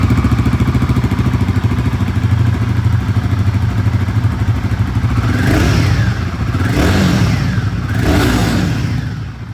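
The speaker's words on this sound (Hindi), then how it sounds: "आप लोगों ने यहाँ पर DOHC इंजन का जो सेटअप है उसकी आवाज गोरिल्ला 450 में सुन लिया" A 2024 Royal Enfield Guerrilla 450 with a DOHC engine, heard close up from the exhaust: a steady, throbbing idle with two sharp throttle blips revving up and dropping back near the end.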